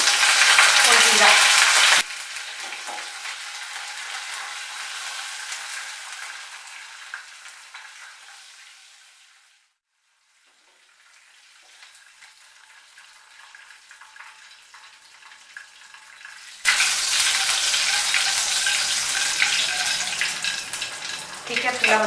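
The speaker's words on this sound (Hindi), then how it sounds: "अब हम तड़का लगा रहे हैं।" Loud sizzling of curry leaves, cumin and chillies frying in hot oil for a tempering, a broad steady crackle that dies away in the middle and then bursts back up strongly near the end.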